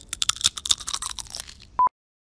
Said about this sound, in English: eliminar esos molestos ruidos que se producen al morder los Doritos